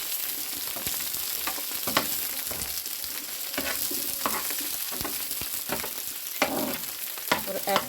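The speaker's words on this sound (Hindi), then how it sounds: "इसके अंदर ही हमने ये भिंडी फ्राई करनी है।" Sliced okra fries in about a tablespoon of ghee, giving a steady close sizzle with brief crackles and stirring clatter scattered throughout, and no talking.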